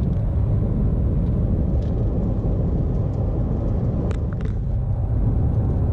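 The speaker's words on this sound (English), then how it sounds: "We're still just driving through Oklahoma." Steady low road roar of a car driving along a highway through Oklahoma, a continuous broadband rumble with faint passing whooshes, no voices.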